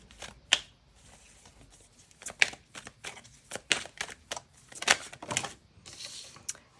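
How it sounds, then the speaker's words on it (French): Tarot cards drawn one by one from a deck, giving a string of quick, sharp card snaps and soft shuffling rustles spread over several seconds, with short pauses between them and no talking. "Je prends 3 cartes."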